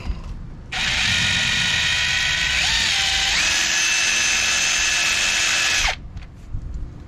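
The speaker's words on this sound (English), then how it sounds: "you put your drill in reverse" Cordless drill running in reverse to back out a MaxChock X-shaped wheel chock on an RV tandem axle, a loud whining motor with a ratcheting rattle, held steadily for about five seconds with slight pitch shifts, then stopping.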